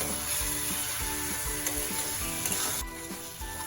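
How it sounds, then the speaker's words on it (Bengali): Masala of chilli powder and chopped green chillies sizzles steadily in hot oil while being sautéed for bhindi masala, a loud continuous frying hiss with faint stirring scrapes and no talk. "এবার এটাকে আমি ততক্ষণ কষাবো যতক্ষণ না মশলা থেকে তেল ছেড়ে আসে"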